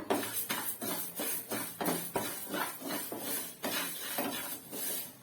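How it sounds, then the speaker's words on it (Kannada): Fifty grams of fenugreek seeds are fried in a pan, with rhythmic scraping and clinking strokes of a utensil against the metal over a faint sizzle, close and moderately quiet. "ಮೆಂತ್ಯ ಫ್ರೈ ಮಾಡ್ಕೊತಾ ಇದ್ದೀನಿ ಐವತ್ತು ಗ್ರಾಮ್ ತಗೊಂಡಿದ್ದೀನಿ ಮೆಂತ್ಯನ"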